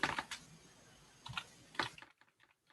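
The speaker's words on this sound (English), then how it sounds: "I'm typing it." Computer keyboard typing in a quiet room: a quick burst of keystrokes, a pause, then two more short clusters of clicks, close and fairly soft, ending in near silence.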